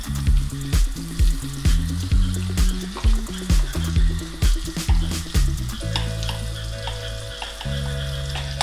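Butter, about one and a half tablespoons, sizzling in a small kadai on a stove, a steady loud frying hiss running throughout with background music playing over it.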